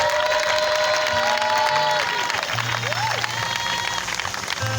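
Crowd applauding and cheering at an evangelism crusade in Guibéroua, a dense sustained wash of clapping and shouts with ringing musical tones and a voice carrying over the noise throughout.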